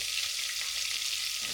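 Asafoetida and cumin sizzling in hot oil for pav bhaji, a close, steady crackling hiss that holds evenly through the brief moment without pause.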